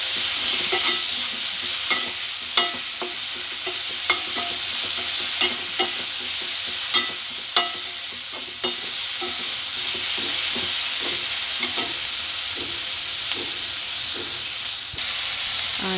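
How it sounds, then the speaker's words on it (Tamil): Onions and tomatoes sauté in a pan for cauliflower gravy, with a steady loud sizzle broken by repeated stirring scrapes and clinks throughout. "ஒரு 3 தக்காளி மட்டும் நான் எடுத்து அதிலையும் சேர்த்து எல்லாத்தையும் மொத்தமாக போட்டு வதக்கிக்கலாம்"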